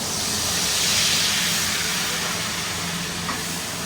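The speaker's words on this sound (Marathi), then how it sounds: "फोडणी मारायची." Spices and dampened red chillies hit hot oil for tempering a chicken curry, making a loud, continuous broad hiss that holds steady for the whole stretch, with no talk.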